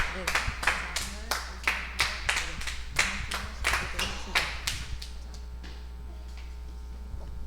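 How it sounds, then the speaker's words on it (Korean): Children clap together during a Sunday service for an elementary Sunday school group at a church, a run of about a dozen sharp, fairly rhythmic claps that stop around five seconds, leaving a steady low hum. "같이 한번 박수 한번 쳐보도록 하겠습니다."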